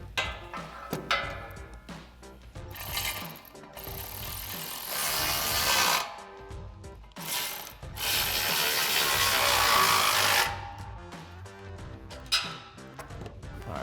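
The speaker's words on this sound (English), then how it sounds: "I did have to put an extension on this, but we're still using a 16 mil socket." A hand ratchet with a 16 mm socket on an extension turns bumper bolts on a 2024-2026 Toyota Tacoma, giving bursts of close, rapid clicking separated by short pauses.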